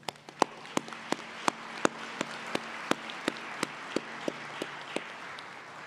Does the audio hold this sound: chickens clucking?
no